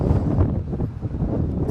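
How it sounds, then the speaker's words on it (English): Wind buffeting the microphone while riding an Inmotion P6 electric unicycle on open road, a steady low rumble with a few stronger gusts, no talking. "There is a bit of wind today"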